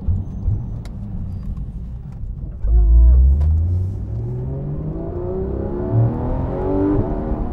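Porsche 991.2 GT3 RS flat-six engine revving up from a low idle rumble, swelling with a loud bark and then climbing steadily in pitch as it pulls through the rev range, close and alone without talk.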